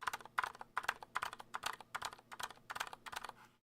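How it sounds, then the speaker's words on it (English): Unlubed Healios switches on a Keychron K6 keyboard are struck hard in quick, close succession, making a rapid rhythmic series of clacky keystrokes that stops abruptly. "These are unlubed"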